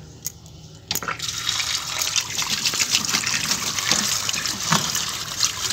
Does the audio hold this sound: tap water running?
yes